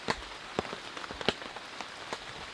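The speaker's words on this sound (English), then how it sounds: "just steady rain" Steady rain patters on the roof of a 4Runner during a heavy storm, with scattered louder drops tapping irregularly over a soft, continuous wash of falling water.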